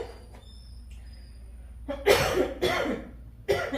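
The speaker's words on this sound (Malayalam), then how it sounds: "ഒരുപാട് സംസാരിച്ചു കഴിഞ്ഞാലും എനിക്ക് ഇങ്ങനെ ചുമ വരും" A person gives a few sharp coughs close to the mic after a quiet stretch: first a quick cluster of two, then one more after a short pause.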